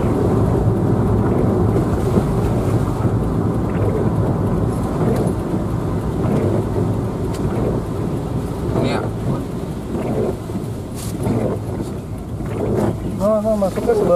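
Heavy rain pours down steadily at Leuwipanjang bus terminal in Bandung, a loud, dense wash of noise with low rumbles mixed in, and scattered voices and vehicle sounds sit beneath it.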